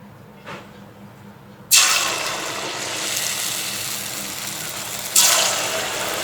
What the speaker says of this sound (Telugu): ఆయిల్ హీట్ అయిపోయింది సో ఈ ఇవన్నీ ఆయిల్లో వేసేసుకుందాం